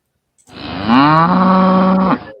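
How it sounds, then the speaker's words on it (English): A single loud cow moo sound effect rises after a moment of silence, holds steady for over a second and then cuts off, close and alone. "What can you give us a nostalgia moo?"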